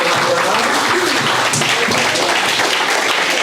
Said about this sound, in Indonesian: Sekali lagi tepuk tangan untuk